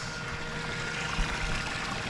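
A 12-volt submersible pump bails rainwater out of a boat, producing a steady, hissing rush of flowing water that holds at an even, moderate level throughout, with no talking.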